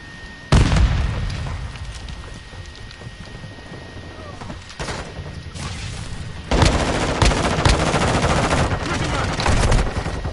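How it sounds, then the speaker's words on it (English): Game gunfire from Call of Duty Modern Warfare 2, loud and close, with sharp shots and sustained bursts of automatic fire rattling over a dense battlefield din for the whole stretch. "They're shooting at me"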